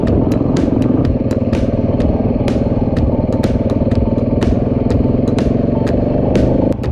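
A motorcycle engine runs loud and close, its steady mid-pitched rumble holding throughout while sharp clattering ticks punctuate it, with no talk over the engine.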